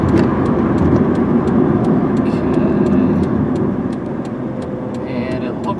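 2003 Kia Rio Cinco driving along a road and slowing to turn, a steady engine and road-noise drone from inside the cabin with someone talking over it and rhythmic ticking clicks throughout.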